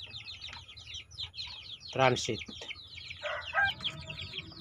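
Chickens in a transit coop cluck and chirp throughout, with one louder squawking cackle midway and scattered fowl calls, close by, while a person talks over them.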